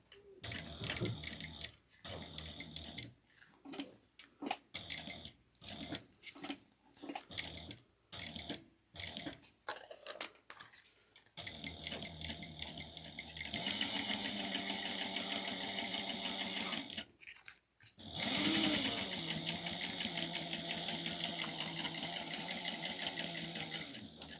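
A sewing machine stitches a tote bag, starting in short stop-start bursts of back stitching and then running in long, steady, close mechanical whirring runs with a brief pause near the end.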